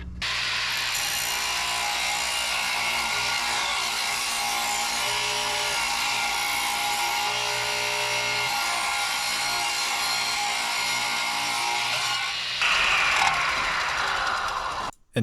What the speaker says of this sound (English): And now we proceed to rip down some more boards.